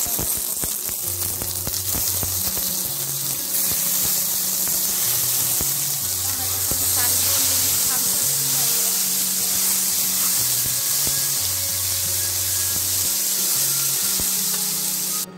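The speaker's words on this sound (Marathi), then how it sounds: "आता मी लसूण, आलं आणि काजू टाकलेले आहेत। आता ते छान परतून घेणार आहे कांद्यामध्ये।" Garlic, ginger and cashews sauté with onions in hot oil in a kadhai, giving a steady close sizzling hiss beneath a looping melodic music track.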